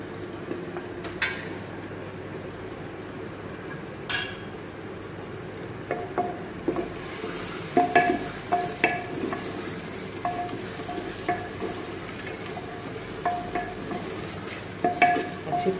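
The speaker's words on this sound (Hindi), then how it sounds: "अच्छी तरह से इसकी भुनाई करेंगे।" Whole spices such as cardamom and cloves with ground cumin and coriander roast in a clay pot, with a steady soft sizzle and repeated scraping and clinking strokes of a spoon stirring against the pot, no voices.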